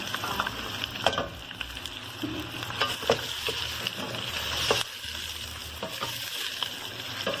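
Cabbage, carrot, capsicum and green chilli fry in a pan with chicken, a steady sizzle broken by scraping stirs and clatters of the utensil, close and without talk.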